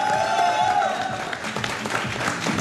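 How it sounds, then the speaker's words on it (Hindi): Studio audience applause for a guest on a Pakistani cricket TV show, a crowd clapping steadily at close range for a few seconds, with a tonal hum and some noise mixed in beneath it. "जुनैद भाई के लिए तालियां बजा देते हैं।"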